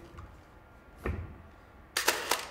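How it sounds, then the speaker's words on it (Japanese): A Pentax 645 medium format film camera fires its shutter with a crisp mechanical clack, followed about a second later by a quick burst of clicks and whirring from the automatic film advance, heard close and clear in a quiet room. "はい、シャッター切れます。"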